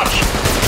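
Rapid automatic gunfire in the mobile battle royale Apex Legends Mobile, a dense close burst of shots filling the brief moment without pause.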